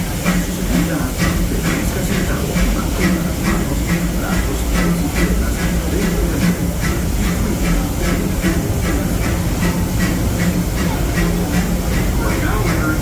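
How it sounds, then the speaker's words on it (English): Disneyland Railroad passenger train running behind steam locomotive E.P. Ripley, with a constant rumbling roll, rhythmic clicking of wheels on rail joints and steady hiss, heard from aboard the train. "welcome aboard the Disneyland Railroad"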